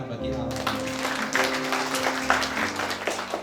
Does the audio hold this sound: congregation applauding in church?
yes